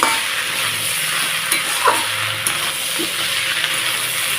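Fish heads with bitter gourd sautéed in a pan, a close, steady frying hiss with a few sharp metallic clinks of the spoon against the pan.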